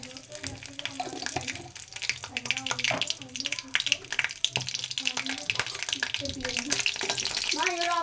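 A steady, crackling sizzle of nigella seeds and dried red chillies frying in hot oil in a wok, continuous throughout, with someone speaking over it.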